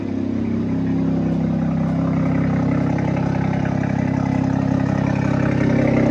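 A car fitted with a big turbo settles into a steady, rumbling idle right after starting, close by and constant, with a slightly uneven lope in its low engine drone and no talking over it.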